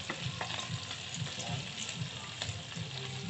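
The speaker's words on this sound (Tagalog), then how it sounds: "hindi naman natin kailangan na matigas yung ating beef steak like super fried" Beef steak frying in a pan, a steady close sizzle with faint stirring scrapes running throughout, no voices.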